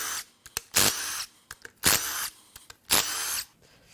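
Power tool buzzing in three loud bursts, removing 13mm bolts from the balance shaft cartridge of a blown Mazda Skyactiv-G 2.5 engine out of a CX-30, with quieter clicks and clatter of handling between bursts.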